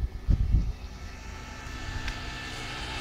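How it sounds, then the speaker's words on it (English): A low-voltage solar-powered shed ventilation fan running outdoors, a steady low hum and whir after a couple of brief thumps at the start, moderate in loudness. "And yes, you can hear the fan on the outside."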